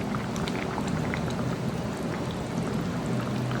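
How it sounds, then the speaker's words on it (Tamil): Pomfret fish curry simmering over a low flame, a steady dense bubbling and fine crackle, close and continuous throughout with no pauses. "நம்ம மீன் போட்டு இது வந்து பார்த்திங்கன்னா லோ ஃப்ளேமில் ஒரு 10 நிமிஷமாக குக் ஆகுது"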